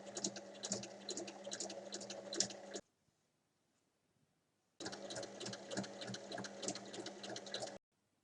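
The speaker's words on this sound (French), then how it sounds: "on va coudre dans le sens des 18 cm" A sewing machine stitches fabric along an 18 cm seam for a small bag, in two bursts of rapid, steady mechanical stitching of about three seconds each, separated by a two-second pause, close and without talk.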